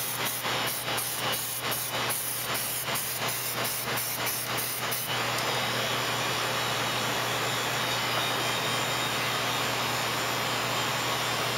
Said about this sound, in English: we've got our black primer ready to go, so it's going to get a little noisy again here